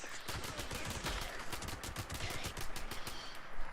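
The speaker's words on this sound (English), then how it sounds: "Sometimes you gotta put your pistol pride away and just bring out the Tommy gun." Rapid automatic fire from a Tommy gun in Fallout 76, a continuous rattling burst of closely spaced shots that runs the whole time, loud and close, with no talk over it.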